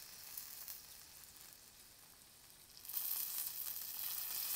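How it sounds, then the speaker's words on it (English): Meat sizzles on a hot cooking stone, a steady hiss with crackling spits that grows noticeably louder and brighter partway through, with no voices. "the stone is designed to cook the meat thoroughly"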